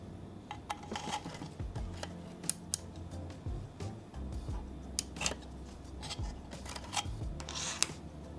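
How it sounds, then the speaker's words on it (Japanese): An SD card is pushed into the front card slot of a CalDigit TS4 Thunderbolt 4 dock, producing a series of small, sharp, close plastic clicks and handling rattles in a quiet room. "SD カードは気軽にブスッとさせます。 ちゃんとカチッと手応えありなやつです。"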